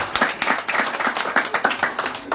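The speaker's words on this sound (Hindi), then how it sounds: "चले इन परिवार को शानदार ताली की गड़गड़ाहट से" A crowd at a Ramayan katha gathering claps in a quick, fairly even rhythm, close and lively, filling the whole short moment with little talk.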